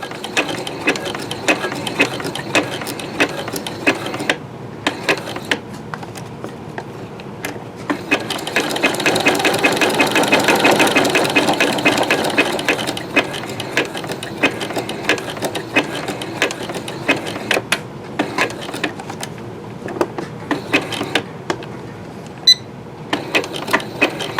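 A sewing machine stitching a rope bowl chatters in steady rapid mechanical clicks, running loud and close throughout with a dense swell of stitching in the middle.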